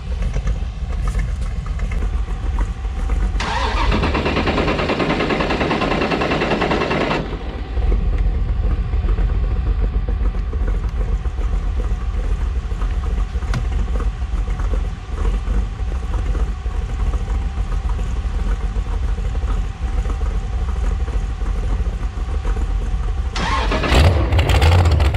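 Car engine cranking and catching, a loud starter whir for a few seconds, then a steady idle rumble that continues nearby until another brief burst near the end.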